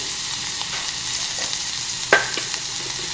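Onions and green chillies sizzle steadily in a frying pan while a spoon stirs them, with one sharper scrape of the utensil partway through.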